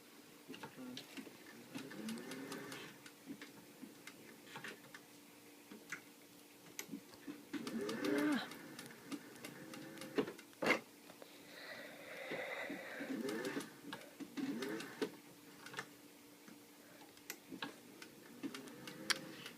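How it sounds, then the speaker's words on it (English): A sewing machine stitching the seam of a wedding dress bodice close to a pinked edge, with quick repetitive ticking runs that stop and start under quiet room noise. "I'm going to sew very close to that pinking shears line"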